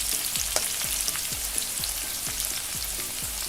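Bitter gourd (karela) slices fry in oil in a pan over low flame, a constant close sizzle with soft regular scraping strokes about every half second, no talk.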